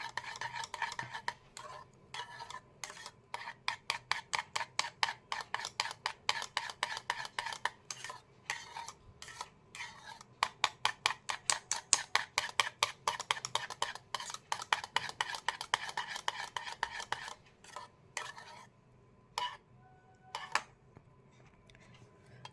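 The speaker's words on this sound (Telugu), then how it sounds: "లాస్ట్లో మనము కోకోనట్ ఆయిల్ ఒక వన్ టూ టీ స్పూన్స్ అనేది యాడ్ చేసుకోండి ఇప్పుడు బాగా మిక్స్ చేయండి దీన్ని" A spoon stirs hibiscus hair conditioner with coconut oil in a small bowl, making a fast run of close, rhythmic clinks and scrapes that briefly pauses, then resumes and trails off into sparse taps.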